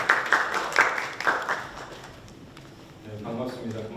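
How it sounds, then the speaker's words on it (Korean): An audience claps at a labor-rights forum in Busan to welcome the center director, a short burst of applause that fades out after about two seconds before a voice begins. "박수로 모시겠습니다"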